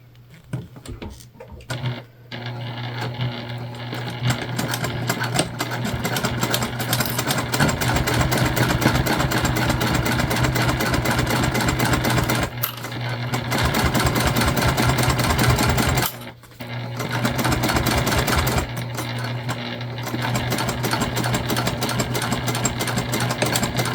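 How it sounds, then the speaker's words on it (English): A sewing machine topstitches along the top of a fabric slip pocket on a candy bag, a loud steady mechanical whir with rapid needle chatter running for long stretches, briefly stopping twice before resuming. "we are just going to stitch a top stitch along the top of our slip pocket"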